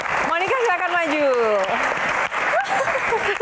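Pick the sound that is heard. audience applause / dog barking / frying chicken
audience applause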